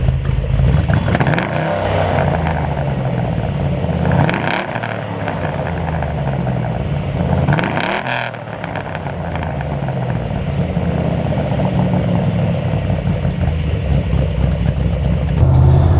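A deep LS3 V8 engine in a Land Rover Defender 110 idles steadily with a low rumbling throb, occasional slight revs rising and falling, close and loud with no talking.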